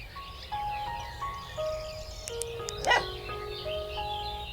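A dog barking in a cozy British village mystery video game, a few short woofs and yips over soft background music, with a sharp bright accent near the end.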